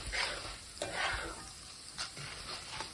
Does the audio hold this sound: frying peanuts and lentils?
yes